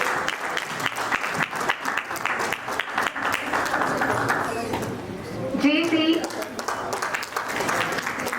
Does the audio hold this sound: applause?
yes